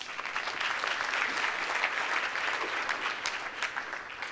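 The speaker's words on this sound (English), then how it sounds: "Give everyone a round of applause." A conference audience in San Diego applauds at a medical innovation event's closing keynote. The clapping is steady and moderately distant, a continuous wash from many people with no speech over it.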